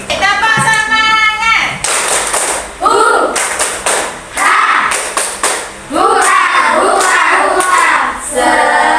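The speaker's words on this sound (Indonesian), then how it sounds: "kita tepuk semangat dulu" Children in a classroom do 'tepuk semangat' spirit clapping, crisp rhythmic claps and thumps in short patterned bursts, mixed with loud chanting and voices of kids and a teacher.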